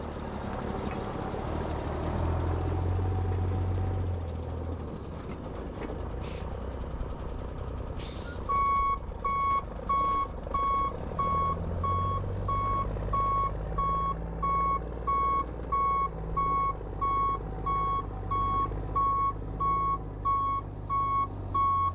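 Rock trucks on a pole barn pad construction site, a heavy engine rumbling before a steady, evenly spaced backup beep starts and repeats for the rest of the clip.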